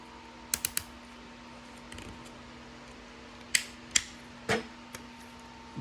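The legs of an Earthrise Sky Lynx transforming toy are pushed in, giving several sharp plastic clicks and snaps: a quick cluster early on, then a few single louder clicks spread out, close and crisp against a quiet room.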